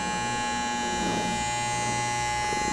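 An Andis Styliner II electric hair trimmer runs steadily, a smooth, even buzzing hum with no breaks, heard close and alone for the whole stretch.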